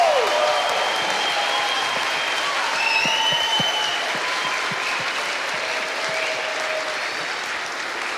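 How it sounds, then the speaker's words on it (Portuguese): A church congregation applauds the children's ministry team in a steady, sustained wash of clapping from a large crowd, with faint voices mixed in. "Vamos dar uma salva de palmas aos tios dos Kids"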